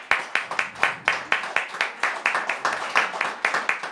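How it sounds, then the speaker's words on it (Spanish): Small audience applause at a literary workshop, a light, uneven patter of individual claps repeating steadily throughout. "Así que un aplauso para Quipi."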